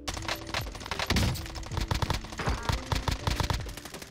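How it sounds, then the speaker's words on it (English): Video game gunfire crackles in dense, rapid bursts throughout a fast firefight, fairly loud and continuous with overlapping shots. "they're getting shot at"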